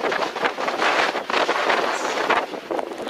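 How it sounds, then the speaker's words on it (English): Strong gusty wind roars across a 6,200 ft summit in the Roan Highlands of Tennessee, buffeting the microphone in loud, surging waves with brief lulls, and no one speaks. "The wind is just crazy."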